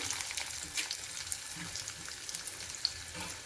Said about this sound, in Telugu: కళాయి పెట్టానండి ఒక స్పూన్ ఆయిల్ వేసాను జీలకర్ర కరివేపాకు ఉల్లిపాయలు